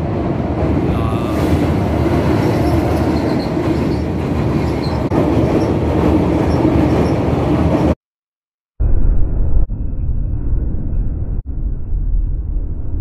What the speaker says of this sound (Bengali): দেখুন একটা শব্দ হয়, মানে ট্রেনের শব্দ ব্রিজে উঠেছে